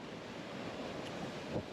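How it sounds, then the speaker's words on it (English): Wind gusting into a microphone at Surfers Beach, Puerto Rico, a brief steady rumble and hiss mixed with distant surf, with no voices. "I apologize for the wind and the noise"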